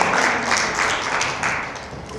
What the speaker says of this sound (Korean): 온 분들한테 박수 한번 부탁드릴게요.